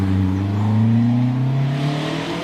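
Westfield race car accelerating at the Prescott hillclimb, a loud engine note climbing steadily in pitch as it pulls away, close and continuous with no talk over it.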